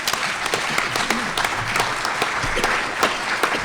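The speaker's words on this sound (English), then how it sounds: "Let's have another round of applause" A crowd claps steadily and evenly throughout, a sustained round of applause at a conference with no voices rising above it.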